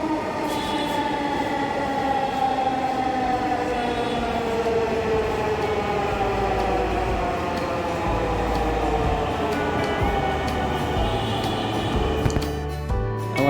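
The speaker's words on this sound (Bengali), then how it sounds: "আমাদের ট্রেন ছুটে চলছে মিরপুর ক্যান্টনমেন্ট এবং ডিএসএস এর উপর থেকে।" A metro train runs along an elevated track above Mirpur Cantonment in Dhaka, heard from inside the carriage as a steady rumble with rising motor whine and faint rail squeal, continuous and fairly loud throughout.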